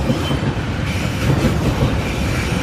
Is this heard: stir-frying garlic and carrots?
no